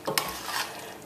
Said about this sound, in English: Just going to give that a quick stir.